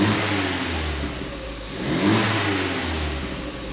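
Ford Fiesta ST200 engine running steadily, a low continuous hum with a slight swell in revs partway through, close by and alone.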